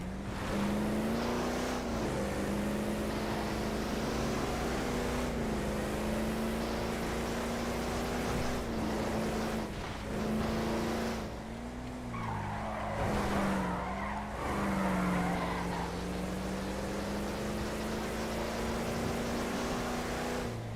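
Car engine droning at a steady pitch with tires skidding and squealing through turns in a GTA roleplay driving session, continuous and loud, occasional rougher bursts partway through.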